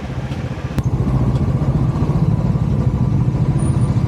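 A motorcycle engine idles and rumbles close by in Bangalore, a low steady throb that grows slightly louder after the first second.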